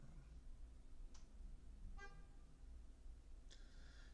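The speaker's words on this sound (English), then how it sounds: "that was somebody honking their horn for some reason" A car horn toots faintly in the distance, three short separate honks spread over a few seconds against a quiet, low rumbling background.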